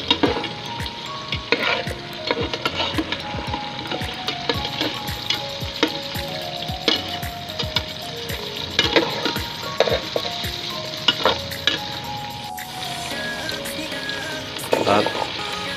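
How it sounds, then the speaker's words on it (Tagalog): Potato pieces fry in oil in a pan for a Filipino caldereta stew, giving a steady close sizzle with frequent scraping and stirring clinks throughout, and no voices. "yan naman pong ating patatas ay prituhin po natin ng bagya"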